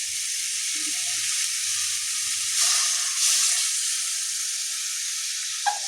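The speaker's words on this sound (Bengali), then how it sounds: "এবারে পরিমাণ মতো জল দিয়ে দেবো।" Water is poured into a pan of pointed gourd curry in yogurt gravy, bringing a loud, bright sizzle and hiss that swells briefly, then settles into steady frying with a faint clink near the end.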